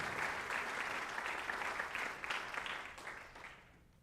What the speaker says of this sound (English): let's give a round of applause for Luke Hutton as he signs for John Carroll